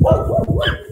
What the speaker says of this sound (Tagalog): Ang dami aso dito.